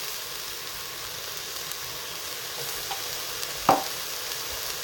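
Ground meat frying in a pan for a Lebanese spinach dish, a steady soft sizzle with occasional light scrapes of stirring and one sharp clink near the end.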